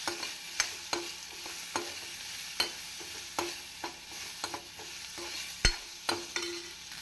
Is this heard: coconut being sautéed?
yes